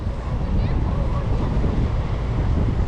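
Wind gusts across a microphone on a seaside fishing pier at Arcachon in France, a loud, continuous low rumble and hiss with no pauses.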